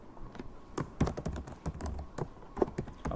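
Keys on a computer keyboard are tapped in an uneven string of close, soft clicks and thunks as a password is entered, with quiet room hiss between strokes and no voice.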